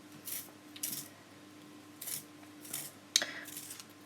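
A colored pencil is sharpened by hand in a series of short, faint scraping strokes with gaps between them, close and quiet, ending with a small sharper click.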